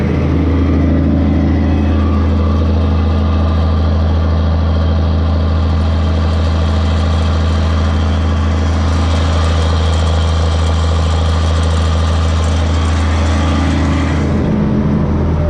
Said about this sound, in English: That motor sounds pretty good.